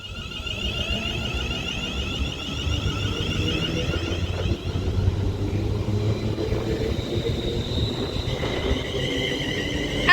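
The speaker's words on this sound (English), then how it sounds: "Now departing is going to be the 1419 London North Western Railway service to Birmingham New Street from Liverpool Lime Street with the double London North Western Railway class 350" Double London Northwestern Railway Class 350 electric train departing Crewe, a continuous rumble of wheels on rails with faint squealing and a whining motor tone rising over about ten seconds.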